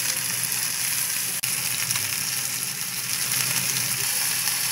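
Pork and mushrooms frying in a hot pan, a steady close sizzle with crackling spatters throughout, broken once by a brief dip.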